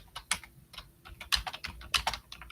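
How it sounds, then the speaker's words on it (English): Rapid keystrokes on a computer keyboard, tapped in irregular bursts with a few louder clacks, close and clear with no talking. "What are you typing?"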